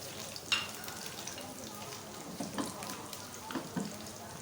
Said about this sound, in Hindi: थोड़ा से भुनाई करें ताकि इसका अरोमा आ जाए स्पाइसेस का चावलों के बीच में